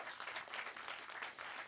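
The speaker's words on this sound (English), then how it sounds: "Round of applause." Brief burst of quiet audience applause at a movie premiere screening, a short spread of clapping with uneven pulses, fairly soft and without talk.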